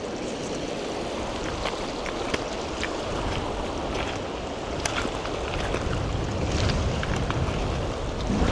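Cold, fast-flowing stream water rushes steadily and loudly close by, a dense unbroken wash of noise with no voices over it.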